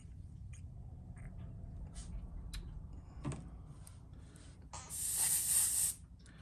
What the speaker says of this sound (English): I'm actually going to spray this out of my PS290 Chartreuse trigger gun